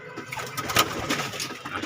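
Pigeons kept for sale murmur soft coos in their coop, several close throaty calls spread across the moment, with a faint engine hum in the background.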